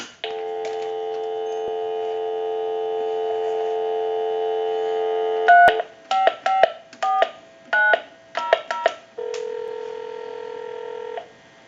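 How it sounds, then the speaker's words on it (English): A steady payphone dial tone hums alone, then a quick sequence of touch-tone beeps dials a number before a tone returns. "we'll go ahead and give you some dial tone and call that number"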